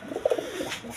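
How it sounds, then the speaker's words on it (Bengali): A pair of big Indian Kaldom pigeons coo in a short burst of soft, throaty notes, close but quiet, with no one talking. "এখানে এক পেয়ার কালদম কবুতর আছে, দেখেন ইন্ডিয়ান কালদম"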